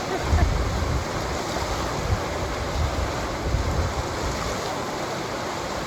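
Steady rushing water from wave pool waves, with broad churning surf noise and some wind buffeting the microphone, continuous and fairly loud throughout.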